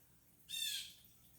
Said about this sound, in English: It sounds like a big bird.